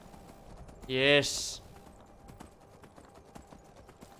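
Horse hooves clip-clop in a steady, soft rhythm while riding in the Skyrim video game, with a brief spoken word early on.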